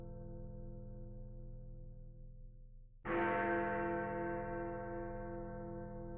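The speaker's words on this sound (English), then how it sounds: "when the last note of the bell faded into the darkness" A church bell in the video game Flowers strikes once, loud and sudden after a quiet held tone, its rich ringing overtones slowly fading and lingering over the remaining seconds.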